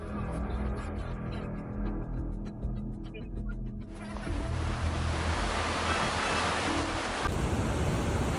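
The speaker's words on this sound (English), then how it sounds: "Huge waves crash on a shoreline with people watching from above." Huge waves crash onto a shoreline, giving a continuous roaring surf wash that swells louder midway, with wind buffeting the microphone.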